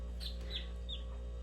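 A hen handled and held by its head gives three short, soft clucks at a steady pace over a constant low hum.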